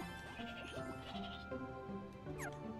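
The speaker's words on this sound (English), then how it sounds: "Wait, but that's a goat noise." Several quick goat bleats in a video game, Kingdom Hearts: Dream Drop Distance, repeating over a couple of seconds, faint and somewhat synthetic in tone.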